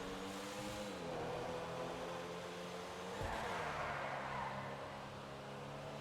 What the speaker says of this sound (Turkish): Burada galiba baya baya araba süreceğiz öyle görünüyor.